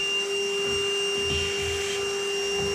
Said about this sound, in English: we use a small vacuum, vacuum out